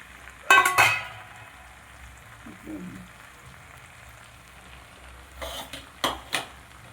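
Puffed rice tipped and stirred into hot oil in a pan, a few loud bursts of scraping and rustling at the start and again near the end, with quieter sizzle in between.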